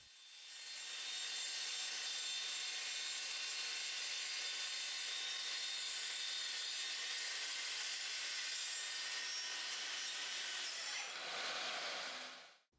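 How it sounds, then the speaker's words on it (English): A Festool TS55 track saw cuts through wood in a joinery workshop, a loud, steady whining rip held for about ten seconds before spinning down at the end, with no talking. "I'm going to be using my favourite Festool TS55, which is the original track saw"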